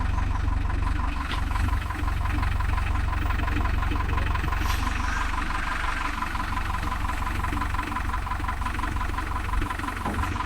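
A JCB 3DX backhoe loader's diesel engine idles nearby, holding a steady, heavy rumble with a rapid rhythmic knock throughout, continuous and unbroken.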